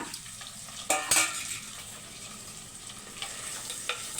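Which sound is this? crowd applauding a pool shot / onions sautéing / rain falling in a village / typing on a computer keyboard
onions sautéing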